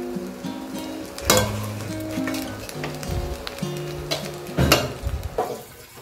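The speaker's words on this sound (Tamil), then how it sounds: "ஆட் பண்ணி நல்லா கலக்கி விட்டுக்கோங்க" Lemon sevai with grated coconut and salt is stirred in a hot pan, giving a soft sizzle and a couple of louder scraping strokes over a steady tonal hum.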